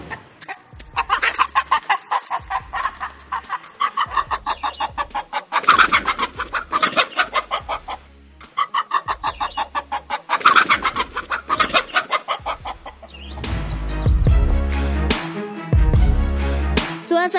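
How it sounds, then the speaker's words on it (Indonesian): A flock of chickens on a farm clucks and squawks in loud, rhythmic bursts, some panicked as they run from a fox, with a denser, harsher stretch near the end. "Kawanan ayam pun terlihat berlarian dikejar-kejar oleh rubah itu."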